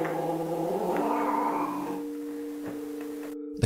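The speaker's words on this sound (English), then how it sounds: "The cat, Loli, aggressively hisses and snarls at something that Rosanna can't see." A cat yowls and growls in a drawn-out, wavering caterwaul, fairly faint and steady, ending in a brief sharp sound.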